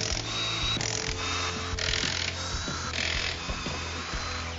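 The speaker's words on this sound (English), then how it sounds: "get those stock wheels off" Air or power ratchet spinning off the stock wheels of a truck in a garage, a series of rapid buzzing bursts each roughly a second long, separated by brief pauses, loud and close.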